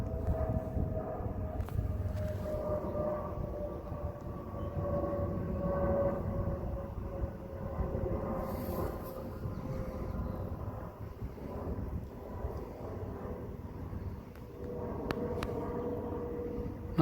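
Aircraft at a mini air show fly practice maneuvers together, a steady broad engine roar holding throughout at moderate distance with no talk.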